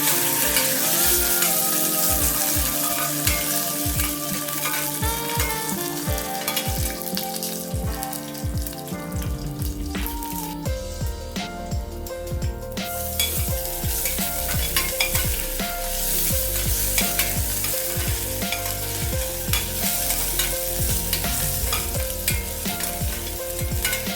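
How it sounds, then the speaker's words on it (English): Curry leaves, slit green chili and crushed ginger stir-fried in hot oil for a vegetable stew, a loud crackling sizzle with rhythmic utensil scraping, close up and continuous, no talk. "Add a few curry leaves and a slit green chili with some crushed ginger and stir"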